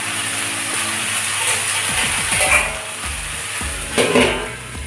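Water spinach cooks in a covered pan on the stove, giving a close, steady sizzle and crackle with bursts of clicking and rattling scrapes throughout.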